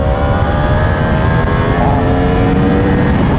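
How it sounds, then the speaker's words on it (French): Motorcycle shifting into second gear and accelerating hard again, a loud, close engine roar holding steady with rising whine, no voices. "je repasse la 2 et les réaccélérations"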